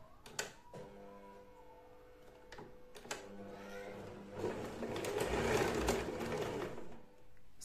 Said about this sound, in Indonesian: lalu bagian sisinya, sisi kanan dan kiri ini kita jahit sampai ke ujung.